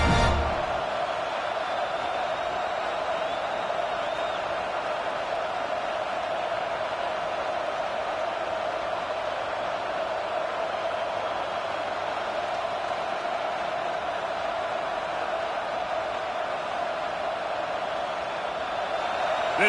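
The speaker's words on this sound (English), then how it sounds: "This crowd rising up, sensing that its defense needs some help." A football stadium crowd cheers as the home defense takes the field, NC State hosting Northwestern, making a continuous, even roar that stays loud for the whole stretch.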